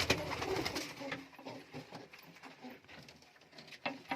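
Pigeons in a loft give low, throaty cooing calls in repeated bursts, close and fairly quiet, with soft shuffling and patter between the calls.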